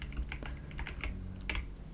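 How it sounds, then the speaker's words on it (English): Quiet, steady typing on a computer keyboard in a calm indoor setting, a run of soft, close key clicks with uneven rhythm and no voices. "I alternate between typing and reading"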